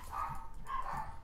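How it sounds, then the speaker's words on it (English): Hounds in the League of Legends video game bark in a quick pair of close, loud yelps, alone without talk. "Unleash the hounds."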